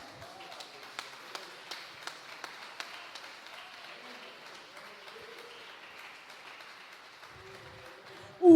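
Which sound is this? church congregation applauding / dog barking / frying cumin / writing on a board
church congregation applauding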